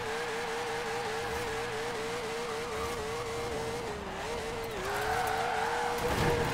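A 1951 Porsche race car in Forza Horizon 4 launches hard in second gear, its engine holding a steady high drone while the tires squeal and skid, the pitch rising toward the end.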